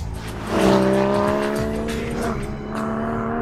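A 2015 Porsche Cayman GTS sports car drives hard on a tight, twisty road, its engine rising in pitch as it accelerates and holding a loud, steady drone up close without speech.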